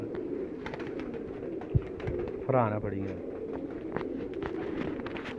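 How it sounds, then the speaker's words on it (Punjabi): A pigeon gives a single clear coo at a rooftop pigeon loft in Faisalabad, close by, heard amid people talking and shuffling footsteps. "ਇਹ ਰਾਣਾ ਸਾਹਿਬ ਕਿਹੜਾ ਕਬੂਤਰ ਹੈ ਜੀ?"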